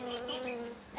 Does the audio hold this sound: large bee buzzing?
yes